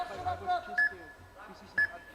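A match timer beeps in the background of a youth MMA championship bout, two short bright tones about a second apart that sit under crowd noise and commentary.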